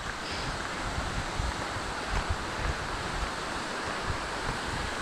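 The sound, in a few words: waterfall along a trail run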